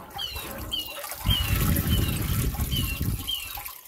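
Running water rinses through a blocked diesel particulate filter, splashing and gushing steadily, getting heavier partway through, with faint high chirping sounds recurring in the background.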